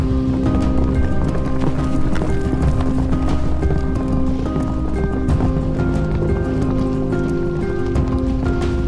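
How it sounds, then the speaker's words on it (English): Herd of yaks running across wetland grassland on the Qinghai-Tibet Plateau, a dense, steady rumble of many hooves pounding without pause, loud and continuous throughout. "The yaks of Maqu also love running across the wetland grassland."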